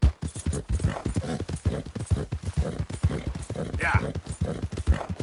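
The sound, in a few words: horse galloping hooves in video game Red Dead Redemption 2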